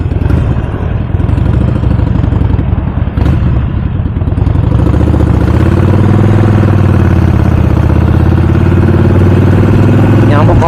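Mixed motorcycles idling together, including automatic scooters, sport bikes and a Harley, a loud continuous engine rumble and clatter up close, with a rev swell partway through and someone talking over it.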